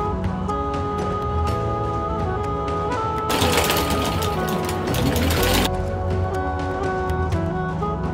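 A sewing machine stitches along a skirt waistband, its steady mechanical whirring running throughout and swelling into a faster, louder burst of stitching in the middle before settling back.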